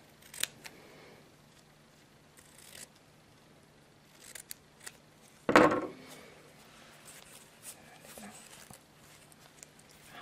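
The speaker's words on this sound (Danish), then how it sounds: "Klip lige enderne" A single sharp snip of scissors cutting the ends of a ribbon on an Advent wreath bow stands out over a quiet room, with faint handling clicks around it.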